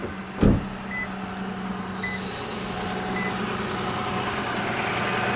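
A 2007 Toyota Camry engine with a radiator leak idles steadily nearby, with a brief knock near the start and a faint repeating electronic beep.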